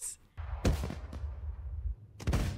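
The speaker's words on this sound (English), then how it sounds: "Well, they're like color fireworks." Explosions from the film Mad Max: Fury Road come as deep booming blasts, a couple of heavy thuds with rumbling decay between them, loud and close.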